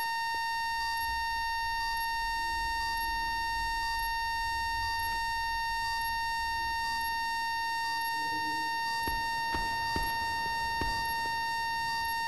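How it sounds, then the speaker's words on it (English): A bomb armed in the video game Call of Duty Black Ops 4 gives off a steady, evenly spaced electronic beeping over a constant tone, with a few sharp thuds near the end. "Bomb is armed."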